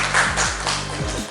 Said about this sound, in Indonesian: Boleh tepuk tangan untuk kita.